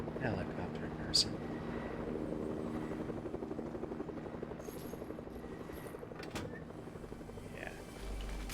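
A Fortnite helicopter drones steadily with a low, rhythmic rotor hum and mechanical rattle, moderately distant, running under a speaking voice.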